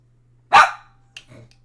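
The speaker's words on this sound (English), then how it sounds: "Keep barking like that" A single sharp dog bark up close, followed a moment later by a short, softer huff or grumble.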